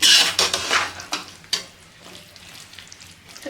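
Soybean chilli being stirred in a pan with chopped spring onion and ginger, a few loud scraping strokes at the start, then quieter sizzling and faint clinks, with no voices.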